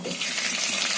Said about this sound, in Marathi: तेल तापलं, आता मी मोहरी घालते